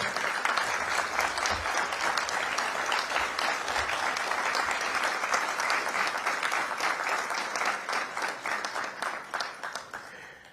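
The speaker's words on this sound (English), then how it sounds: "you all applauded because I said the single largest" An audience at the inauguration of an executive centre applauds loudly and steadily from a dense crowd, the clapping thinning slightly in the last seconds.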